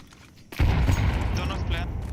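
A sudden loud blast bursts out after half a second of quiet in a Counter-Strike 2 match, a grenade going off with a rumbling, crackling tail and speech partly mixed in.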